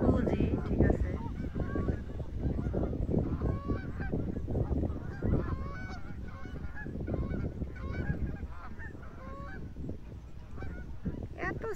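A flock of large birds, likely geese, at Montezuma national park honks repeatedly and overlapping, many calls near and far over a steady outdoor background.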